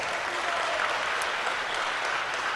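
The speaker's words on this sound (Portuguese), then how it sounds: "Uma salva de palmas pro Tigas, ele é demais, mano." An audience at a Portuguese-language church talk on spiritual gifts claps for a man. The applause is dense and continuous from start to end, with a crowd murmur under the clapping.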